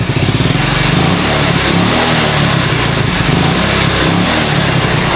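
A motorcycle that sputters after running out of fuel revs under throttle, giving a loud, close, continuous buzzing engine roar with rapid pulsing firing, steady without pauses, and no speech.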